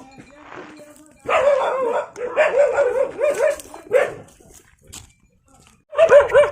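Dogs bark in clustered bursts, close by, in a remote tribal village in Thiryani, Kumram Bheem district, with pauses between volleys and a final burst at the end.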